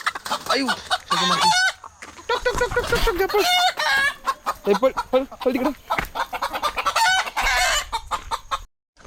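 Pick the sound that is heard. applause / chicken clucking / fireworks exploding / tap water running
chicken clucking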